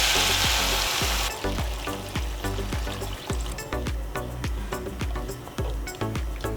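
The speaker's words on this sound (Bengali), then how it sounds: "এবার দিয়ে দিই আমি বেশ খানিকটা জল।" Water goes into a frying chicken stew with papaya, potato and carrot, giving a loud rushing hiss that cuts off after about a second. Then come steady, rhythmic scraping strokes over a softer bubbling sizzle.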